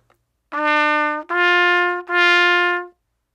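A trumpet plays three steady, evenly spaced quarter notes of equal pitch, then a quarter rest of silence; close and clear, with no talking.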